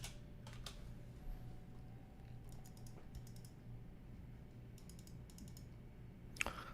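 Fast, quiet keystrokes patter on a computer keyboard during a typing game, with bursts of clustered clicks and short pauses, ending in one sharper tap.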